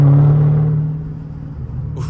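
Dodge Charger Hellcat with a mid-muffler delete exhaust, a loud deep tonal roar that sweeps and fades into a lower rumble, close by, with no talk.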